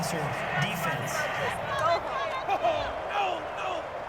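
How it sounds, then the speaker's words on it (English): Stadium crowd in Madden NFL 21 for a Ravens versus Steelers game, reacting to a penalty call with a steady roar and jeers under a commentator's continuous talk. "this crowd does not like that call. Understandable reaction from them."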